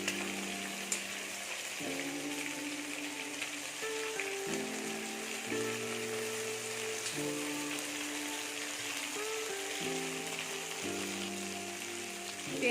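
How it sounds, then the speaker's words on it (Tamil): Prawns fry in a hot pan, a steady fine sizzle and crackle running throughout, with low tonal hum layered beneath and no voices. "அப்படியே ஒரு பக்கம் ஃப்ரை ஆகட்டும்."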